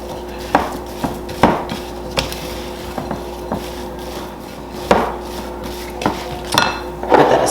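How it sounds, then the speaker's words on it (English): Stirring a no-bake PB&J granola bar mixture with peanuts in a bowl, a utensil clacking and scraping against the dish in irregular knocks, close up with no talk. "Give it a nice mix."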